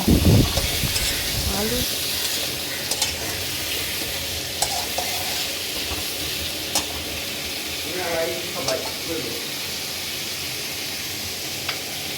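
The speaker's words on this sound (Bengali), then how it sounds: "তেলের মধ্যে লবণ হলুদ দিয়ে এবার আলুটা দিয়ে দেব।" Potatoes are added to hot oil seasoned with salt and turmeric, starting with a loud splash and then settling into a steady, continuous hiss of frying, with occasional stirring clinks.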